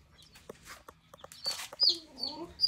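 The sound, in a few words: baby chicks cheeping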